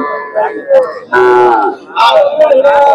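Repeated loud moos from a young Deshal-breed bull, several long bellowing calls close by, with faint crowd noise between them at a cattle market in Jamalpur, Bangladesh.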